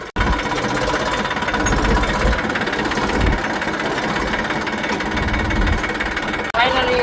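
Tractor engine running steadily close by, a loud continuous diesel chug with a rapid knocking rhythm, briefly cutting out near the end.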